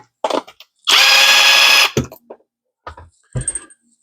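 A power tool whirs in one loud burst of about a second during a hobby repair on an Axial Coyote RC vehicle, surrounded by short clicks and clatters of handling.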